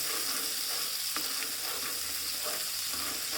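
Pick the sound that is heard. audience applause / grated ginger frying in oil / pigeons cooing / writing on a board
grated ginger frying in oil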